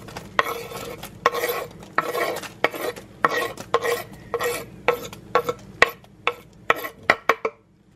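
Small chopped green pepper and onion cooking in a pan, stirred with repeated scraping strokes of a utensil against the pan over a low, steady sizzle; the strokes come faster and sharper toward the end.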